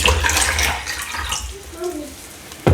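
Liquid splashes and trickles into a container, a steady watery pour that runs for a couple of seconds before a sharp clink at the end.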